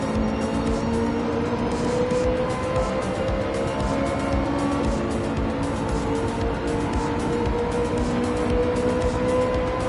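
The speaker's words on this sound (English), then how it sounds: "enjoy the sound of the beautiful F430 Ferrari engine at full noise" Ferrari F430 engine in a racing video game screams at full revs, a sustained high-pitched wail held steady and loud for ten seconds with faint tire noise beneath.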